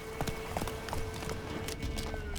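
Horse galloping in The Witcher 3, a quick run of soft hoofbeats over a steady tonal background hum, fairly quiet.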